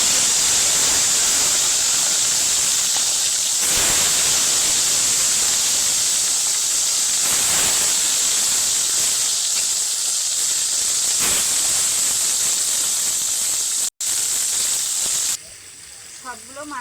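Fish frying in white oil in a well-heated wok, with a loud, steady sizzle and hiss that runs unbroken before cutting off abruptly near the end.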